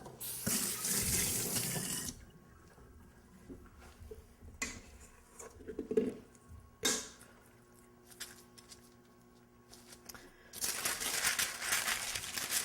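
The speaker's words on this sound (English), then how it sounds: "actually I'm gonna wet my hands first." Water runs from a kitchen tap for a few seconds while hands are wetted before shaping cookie dough. Quiet handling noises and clicks follow, and then the tap runs again, close and fairly loud.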